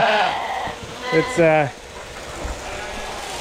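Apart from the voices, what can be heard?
sheep bleating during shearing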